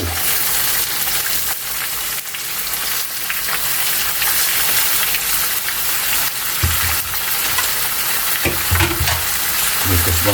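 Squid for adobong pusit sizzles and crackles steadily in a hot pan, a loud, dense, continuous fry with occasional stirring scrapes and sputters throughout.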